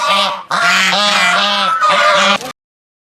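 Domestic geese raised in a village give loud, nasal honks in three close bursts, ending abruptly in silence.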